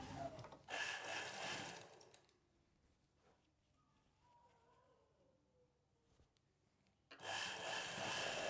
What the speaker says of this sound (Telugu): లోపల వైపునకి ఫోల్డ్ చేసి పైవైపున ఒక కుట్టు వేసుకోవాలి